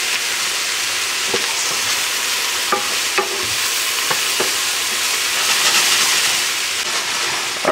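Shrimp lo mein sizzles loudly and steadily in a hot pan while it is stirred, with scattered utensil scrapes and clicks over the constant frying hiss, and no voices.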